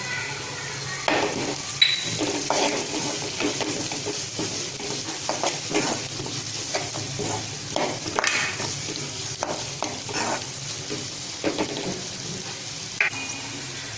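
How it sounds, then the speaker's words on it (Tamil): Egg masala fries in a pan with salt and pepper powder while a spoon stirs it steadily, giving a close, continuous sizzle marked by repeated scraping and clinking strokes. No voices are present. "மிளகு சேர்த்து நல்லா கிளறி விட்டுட்டு"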